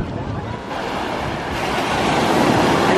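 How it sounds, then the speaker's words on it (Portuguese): Ocean waves roll onto a beach in a steady, loud wash of surf, with wind rumbling against the microphone and building slightly toward the end. "Olha a praia."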